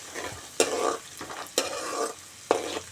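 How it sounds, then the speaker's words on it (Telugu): Onion and green chillies fry in oil with cumin and mustard seeds while a spoon stirs them in three distinct bursts, each a sharp scrape followed by a short sizzling swell. The stirring is close and no one talks. "జీలకర్ర ఆవాలు వేసాను తర్వాత ఉల్లిపాయ పచ్చిమిర్చి వేరేంత వరకు వేయించుకోవాలి"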